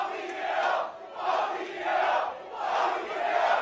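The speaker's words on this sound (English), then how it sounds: "the crowd was just going nuts" A wrestling arena crowd chants in rhythmic, swelling waves, four loud rising-and-falling bursts of massed yelling heard from within the hall.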